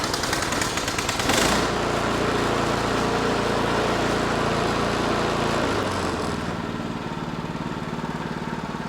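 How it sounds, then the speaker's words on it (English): A Husqvarna snow thrower's small gasoline engine runs indoors, loud and steady with a harsh rapid chatter, then drops to a lower, smoother idle near the end; no one speaks. "This one has the idle control. Some of them did, some of them didn't, and that's what the turtle and the rabbit is, but this is running real good now."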